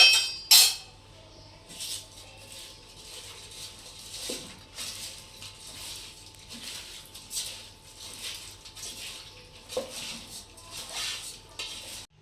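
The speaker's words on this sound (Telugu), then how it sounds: "ఇందులోనే ఒక స్పూన్ నూనె మనం వేసుకొని దీన్ని బాగా కలుపుకోవాలి." A spoon stirs mutton with oil and spices in a cooking pot, giving repeated scraping clinks and soft patter in an uneven rhythm, close and moderately loud, with no one talking.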